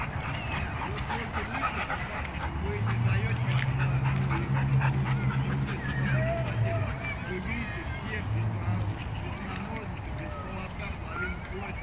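Two pit bulls on a street pant steadily in rapid, breathy rhythm with occasional faint whimpers, close by, while people talk over them throughout.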